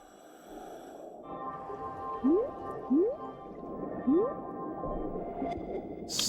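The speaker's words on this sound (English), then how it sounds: "I'm guessing whale." In an underwater exploration game, a whale gives three short rising, squeaky calls a second or so apart against a low, steady underwater ambience, moderately loud and alone.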